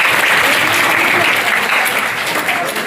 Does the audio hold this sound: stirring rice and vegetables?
no